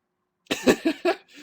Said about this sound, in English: Laugh coughing.